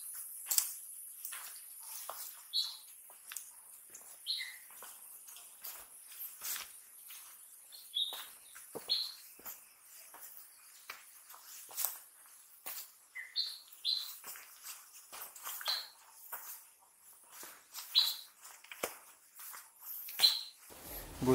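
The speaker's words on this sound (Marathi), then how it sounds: "पक्ष्यांचे आवाज ऐका," Birds chirp and tweet repeatedly in the Karnala Fort forest, short bright calls scattered over a quiet background, some near and some farther off, with no talking.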